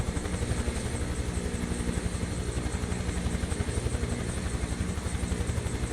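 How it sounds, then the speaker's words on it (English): A Huey helicopter flying over Aspen, Colorado, its rotor thumping in a steady, fast pulse under a loud, continuous engine roar that stays close and even throughout. "Isn't this the greatest helicopter ever?"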